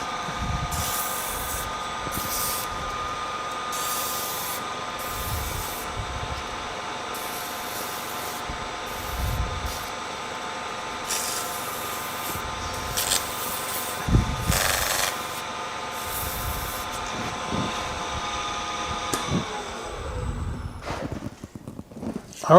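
Fine-grit sandpaper rubs across a turned wooden foot in repeated short strokes, each a soft, airy scratch separated by brief pauses, fairly close and moderately quiet.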